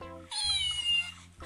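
A house cat gives a single clear, drawn-out meow, close and fairly loud, with a voice faintly underneath.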